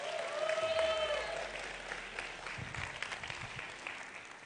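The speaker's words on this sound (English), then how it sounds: "Please give the both of them a massive round of applause." Audience applause at the Mister South Africa 2024 grand final, a steady wash of clapping from a large crowd in a hall, loudest at the start and then easing off a little, with some background chatter mixed in.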